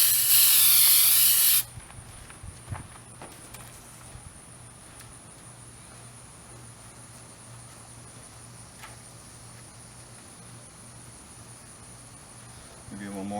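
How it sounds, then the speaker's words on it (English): A loud aerosol can of undercoating hisses for about a second and a half under a 1978 Ford truck, then stops, leaving faint background hum and small handling noises. "Just going to spray down here to glue the protector on. This is undercoating."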